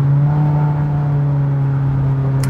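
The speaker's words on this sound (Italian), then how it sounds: "Questo motore che tira fino all'imitatore, siamo un turbo, cioè una roba impressionante." Mazda race car with a turbocharged engine on a road test drive, a steady close droning engine note with strong low harmonics holding at a fairly constant pitch through the short stretch, no speech.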